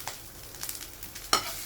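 Drumstick leaves (munagaku) roasting dry in a pan, with a faint steady sizzle and a few scraping stirs, one sharper clatter near the end; no talking.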